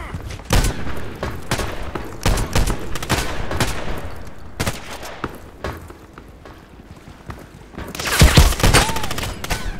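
Repeated bursts of Kedr SMG fire in the shooter game Contract Wars crackle loudly in irregular volleys, with a heavier cluster near the end and quiet gaps between.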